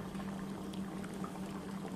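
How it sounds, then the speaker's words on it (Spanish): Dry ice bubbling vigorously in liquid, a steady dense fizzing and churning boil that continues unbroken and fairly close. "Y luego lo que vamos a hacer es agregarle el hielo seco."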